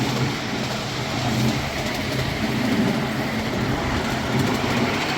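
A model diesel train runs on track at a club, a continuous rumbling roll with faint rhythmic wheel clatter, steady and fairly close throughout.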